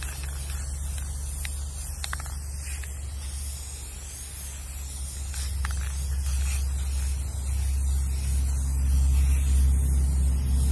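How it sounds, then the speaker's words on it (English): A can of Rust-Oleum Ultra Cover 2x gloss spray paint sprays in a continuous close hiss, with brief breaks between passes and a low rumble underneath that grows toward the end. "So I'm going to spray the bigger one in Marigold and the smaller one in the"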